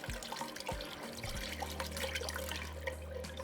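Unsalted chicken broth poured steadily into a pot for loaded potato soup, a continuous close liquid stream that starts with a few splashes and settles into a sustained pour, no voices.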